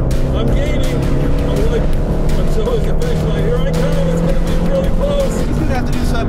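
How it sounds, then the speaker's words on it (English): V8 engine of a Jaguar XK8 or Chevy Corvette during a drag or roll race, a loud, continuous rumbling roar held close, with a voice talking over it. "Listen to that V8. That is incredible."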